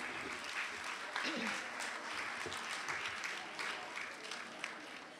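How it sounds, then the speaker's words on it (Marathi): Audience applause welcoming a guest doctor at a medical faculty's Dance for Better Health event, steady sustained clapping from a crowd throughout, with a few brief voices mixed under it. "सगळ्यांनी टाळ्या वाजवून त्यांचं स्वागत करूया"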